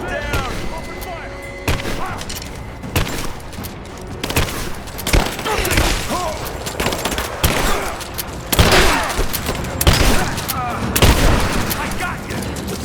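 Sustained gunfire from a firefight in the video game Rise of the Tomb Raider: repeated sharp shots and bursts with booming impacts, loud and dense, under shouted voices.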